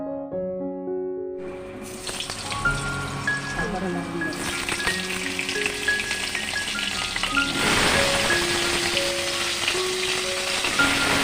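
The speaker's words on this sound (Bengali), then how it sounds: "মাছ ভাজার পর আলুগুলো ভেজে নেওয়া হবে এবার আলুগুলো ভাজা হোক" Potatoes frying in oil in a home kitchen after fish has been fried, giving a steady sizzle that builds and holds under tonal background music.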